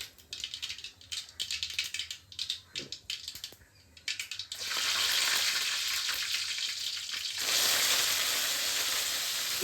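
Shallots, curry leaves and three dried chillies hit hot oil for a brinjal, drumstick and mango sambar, first with crackling spits and pops, then a loud, steady, close sizzle that swells further near the end.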